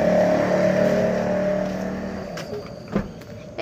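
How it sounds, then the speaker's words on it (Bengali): A car engine drones near and steady, then fades as the vehicle pulls away, followed by a brief thump and some faint rattles toward the end. "স্বামী গাড়িতে যাইতেছে"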